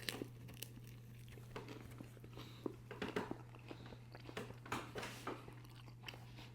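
Someone bites into and chews a burger quesadilla made from ground brisket trim with patty melt sauce, giving soft, irregular crunching and chewing close to the mic, fairly quiet, with no talking.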